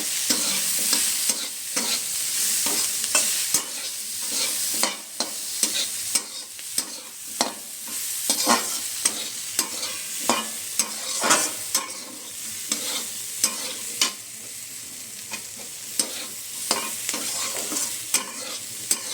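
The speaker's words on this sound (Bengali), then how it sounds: "আমার সবজি কিন্তু প্রায় ভালোভাবে ভাজা হয়ে এসছে" Vegetables frying in a pan for a light oats dish seasoned with a little turmeric, stirred steadily so that a constant sizzle is broken by repeated scraping clatters of the spoon, close and fairly loud, with no talk.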